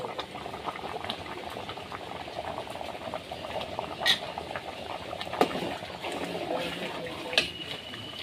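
A pot of thin khichuri bubbling steadily at a low boil, soft continuous blurping and popping with a few sharper clicks, close by and with no talking.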